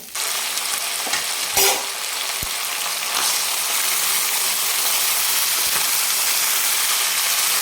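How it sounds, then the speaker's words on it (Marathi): Mutton pieces dropped into a hot pan, a couple of sharp thuds giving way to a loud, steady hissing sizzle that holds close and even throughout, with no talking. "आणि आता लगेच आता याच्यामध्ये मी मटणचे पीस टाकून घेणार आहे"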